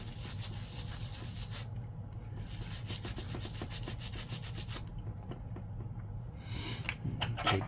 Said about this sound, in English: Take and scrape this out here a little bit and just get it out of there.